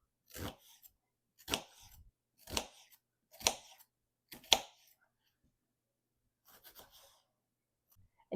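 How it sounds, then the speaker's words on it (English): Sharp knife cuts through a purple onion on a cutting board, five evenly spaced crisp chops followed by a few softer cuts, close and quiet with no talking. "we just want to dice our onion"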